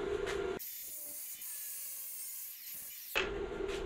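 Wood being sawn to cut small sections out for a fire pit, a steady close rasping stroke lasting a few seconds, with brief noisier bursts just before and after.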